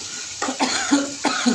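Repeated coughing from someone irritated by pungent green chillies while cooking a tomato and egg curry, three or four sharp close coughs in quick succession with no talk.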